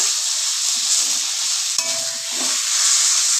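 Taro leaves cooked with a hilsa fish head sizzle steadily in a pan, a loud, even frying hiss with a few soft stirring scrapes and one brief knock partway through.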